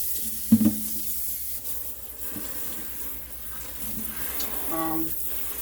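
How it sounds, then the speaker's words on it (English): Water runs from a kitchen tap over food rinsing in a colander, a faint steady splashing wash with occasional clinks and brief louder bumps, close by in a quiet room. "put it in my colander. And I'm going to wash it really, really good and just let it drain"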